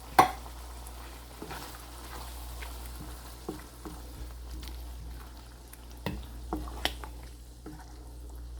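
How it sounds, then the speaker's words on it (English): Tomato sauce with beef is stirred in a pan, with soft sizzling, low bubbling and intermittent spoon scrapes and clinks against the pan, close and fairly quiet over a steady low hum. "So mix it well until this is well combined and bring it to a boil"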